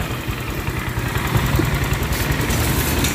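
A repaired motorcycle engine idles steadily, a close low throbbing rumble with even rapid pulses that holds throughout, rising slightly in intensity partway through.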